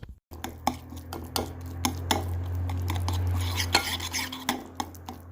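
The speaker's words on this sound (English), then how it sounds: "we're just gonna smash this up, smash up the pieces of sardines so it all kind of forms into a paste" Canned sardines being smashed and stirred into a paste in a bowl for a simple sardine salad, with a utensil scraping and clinking against the bowl in an irregular rhythm of sharp ticks over a low steady hum.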